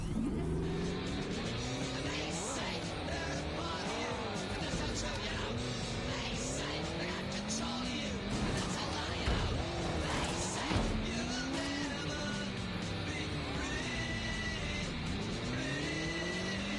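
A motorbike ridden in the video game Watch Dogs Legion revs and whines steadily, its engine pitch rising and falling through gear changes and accelerations, with tyre noise under continuous play.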